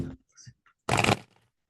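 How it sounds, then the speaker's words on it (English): A deck of tarot cards shuffled by hand, one short riffling burst after a few faint taps and rustles, close and fairly loud, with no talking over it. "Tree form layout. 11 cards. 2 more shuffles. 2 more shuffles."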